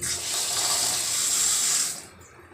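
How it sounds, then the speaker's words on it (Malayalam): Water pours steadily into a cooking pot of kootan curry with snake gourd, shallots, green chillies, drumstick leaves and tomato, a continuous close splashing stream lasting about two seconds before stopping abruptly. "ഒരല്പം കൂടെ വെള്ളം ഒഴിക്കണം"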